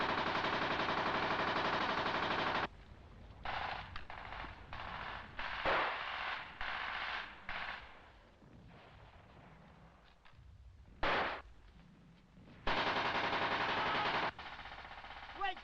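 Gunfire from a village combat video game set in 1979, bursts of automatic fire and loud shots coming in short, uneven volleys with quieter pauses, with near, sustained stretches at the start and end.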